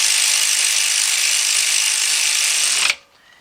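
A socket wrench tightens a 10 mm bolt on the rear brakes of a 2001 Ford Excursion 6.8 with rapid, steady, close ratcheting or buzzing for about three seconds before it stops abruptly.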